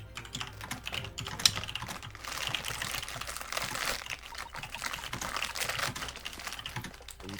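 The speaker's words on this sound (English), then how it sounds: "Are you typing?" Keyboard typing in The Great Ace Attorney Chronicles game, a steady run of quick clicky keystrokes at moderate level through the whole stretch, with no talk over it.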